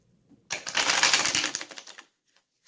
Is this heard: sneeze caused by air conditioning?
no